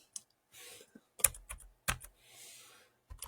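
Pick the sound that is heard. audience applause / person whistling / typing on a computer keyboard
typing on a computer keyboard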